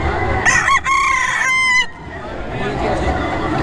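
A Kelso gamefowl rooster crows loudly and close at a gamefowl convention sale in an indoor convention center, one full crow over a constant murmur of crowd noise.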